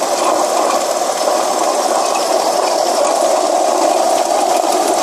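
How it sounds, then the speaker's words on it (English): Failing water pump in a 2004 Saturn L300 engine giving off a loud, continuous mechanical grinding whir with a fast rattling texture, steady and close throughout. "So this is the grinding sound that we have, which to me sounds a whole hell of a lot like a water pump."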